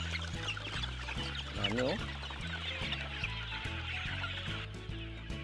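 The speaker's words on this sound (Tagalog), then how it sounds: "Yung mga pisa ng ating sisiw, oh." Newly hatched chicks peep in a busy chorus of small chirps, with a steady low rhythmic hum underneath and a brief spoken word from a person.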